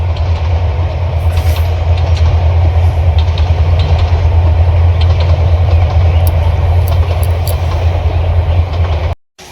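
A train rolls steadily past near a farm field, a loud, continuous rumble with faint rail clatter lasting the whole stretch before cutting off abruptly at the end.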